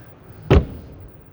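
A wardrobe door on a Weinsberg CUV 500LT motorhome shuts with a single short, solid thud, close by against a quiet background.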